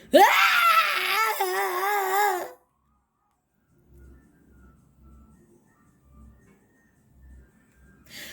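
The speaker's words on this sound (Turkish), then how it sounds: "Acı biber çat çat hüngür hüngür ağlıyormuş." A cartoon chili pepper character sobs and wails loudly for a couple of seconds, a wavering voiced cry up close, followed by quiet soft thumps and faint background sounds.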